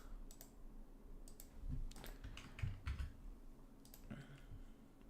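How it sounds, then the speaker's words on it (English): Typing on a computer keyboard, with irregular bursts of clicking keystrokes at close range over a low background hum, with no speech. "Type this."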